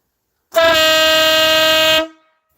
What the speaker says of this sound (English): Had that air horn on the top.